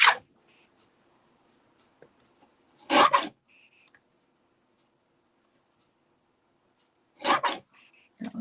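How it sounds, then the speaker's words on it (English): Scissors trimming gold craft material: a few short, crisp snips and rasping cuts in small clusters separated by long quiet gaps, close and moderately loud. "So I'm just going to trim this gold down"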